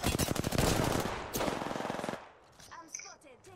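Rapid automatic gunfire from Apex Legends rattles in fast bursts for about two seconds, followed by quieter game sounds and a faint trailing shot.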